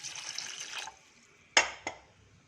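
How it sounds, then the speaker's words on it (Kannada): Water poured into a vessel while cooking at home, a short splashing pour that stops, followed by two sharp brief splashes or drips in a quiet kitchen. "ಇವಾಗ ಸ್ವಲ್ಪ ನೀರು ಹಾಕೊಳ್ಳೋಣ"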